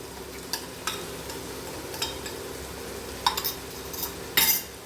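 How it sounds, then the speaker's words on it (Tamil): Biryani powder is stirred into mutton biryani in a pot with a spoon, giving soft repeated scrapes and several sharp metallic clinks against the vessel over a faint low background, with no talking. "போட்டு கிண்டி கொடுக்கணும்."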